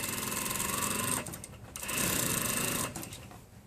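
Sewing machine stitching a calico shawl collar, a steady close rapid hum that stops briefly twice and restarts, running at a moderate level with no talking.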